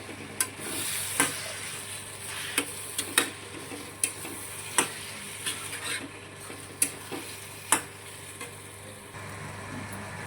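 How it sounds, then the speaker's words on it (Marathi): Brinjal bharit with dried fish and coriander stir-fries in a pan with a low, constant sizzle. A spatula knocks and scrapes sharply at irregular intervals of about one second, and no voice is heard. "आणि याला आता परत असं मस्त परतवून घ्यायचं आहे चांगलं."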